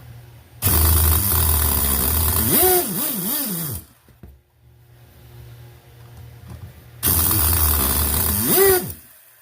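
A Sh.18 engine coughs into two rough running bursts, each a few seconds long and separated by a near-silent gap. The close, loud roar rises and falls unevenly as it revs.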